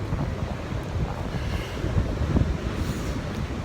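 Pacific Ocean waves and wind on the shore, a loud, continuous rushing roar with gusty wind buffeting the microphone and no clear breaks.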